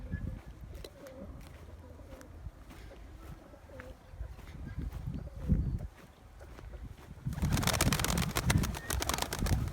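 Pigeons coo softly amid rustling and flapping, with a louder burst of wing flutter and noise near the end.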